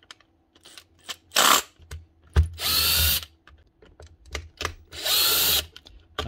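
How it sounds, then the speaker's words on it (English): A small cordless drill whirs in two short high-pitched bursts, each lasting about a second, with clicks and handling knocks in between. "Very basic, cheap drill, starting off."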